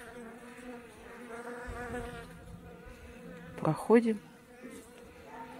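Honeybees buzz around a beekeeper treating a small colony for mites with Bipin. A faint, wavering hum drifts near and far under a man's speech, with a brief louder buzz passing close.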